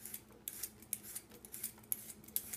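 Cucumber being peeled in a farm kitchen, a run of quick scraping strokes at a steady rhythm, close and fairly quiet with no talking.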